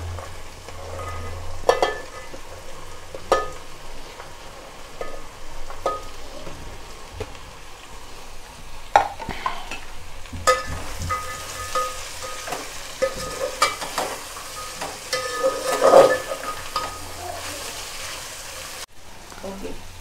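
Cauliflower and peas fry in a pan for veg biryani, giving a steady crackling sizzle with occasional stirring clatter. The sizzle grows brighter and louder partway through, with a brief knock near the end.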